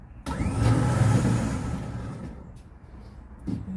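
A truck engine revs and strains under load while towing a Saab 900 on a trailer, a loud, close mid-range drone that surges briefly and then settles into a steady rumble, with a small knock near the end.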